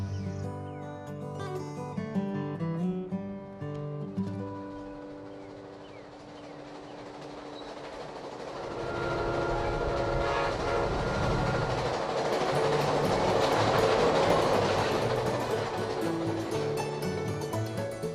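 A passenger train travels east across Florida's Panhandle. Sustained tonal horn-like notes sound first, then give way to a loud, continuous rolling rumble and clatter of the cars that builds and stays heavy to the end.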